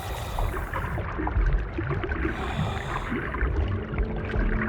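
A strong river current rushes steadily, close and loud, with a continuous churning roar of water and no voices.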